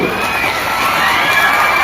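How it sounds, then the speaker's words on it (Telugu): A crowd of schoolchildren at a high school in Nellore claps and cheers as marks are read out, a dense, loud and sustained roar of young voices filling the room. "క్లాప్స్ అది."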